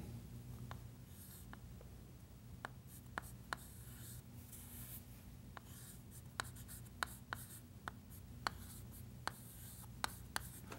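Chalk or marker writing on a board during a Portuguese-language arithmetic lesson, with irregular taps and strokes scattered across the clip against a quiet room and no speech.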